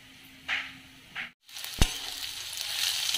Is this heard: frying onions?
yes